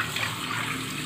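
Water runs steadily from a sink tap while makeup brushes are washed, a brief continuous splashing rush, close and fairly loud.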